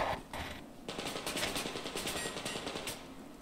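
Rapid automatic gunfire in the video game Survarium, a fast rhythmic burst of shots following a few single reports, moderately close and without talk.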